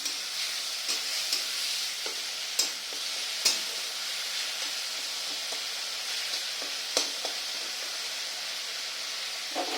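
Food with a little sugar sizzles steadily while being sautéed in a pan, a constant frying hiss broken by occasional sharp scrapes and taps of a stirring utensil against the pan.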